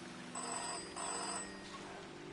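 In the video game Season: A Letter To The Future, a telephone rings twice in quick bursts, fairly faint over a soft, steady background drone, then fades.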